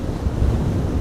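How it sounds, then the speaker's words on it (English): Strong storm wind gusting at Amsterdam Schiphol Airport, a steady low roar buffeting the microphone with no letup across the whole stretch and no voices. "wind all of a sudden picking up"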